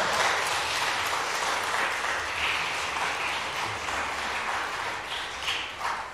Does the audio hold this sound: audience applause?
yes